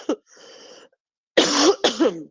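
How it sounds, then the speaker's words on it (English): Someone nearby with congestion coughs sharply, then makes a throaty rasp, followed a moment later by two loud, chesty coughs in quick succession. "this morning I woke up with a cough"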